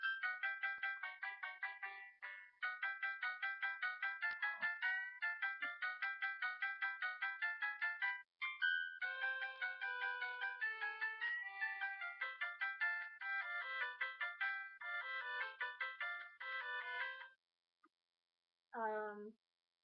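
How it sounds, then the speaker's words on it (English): A phone ringtone plays the Super Mario Bros. 3 theme as a bright, steady electronic melody of rapid repeated notes, running continuously for most of the clip before stopping, then a short final tone. "a new ringtone called it's the Mario Brothers 3"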